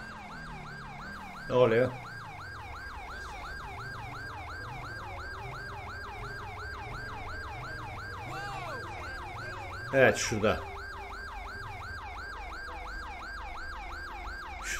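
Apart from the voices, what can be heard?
police siren in video game GTA 5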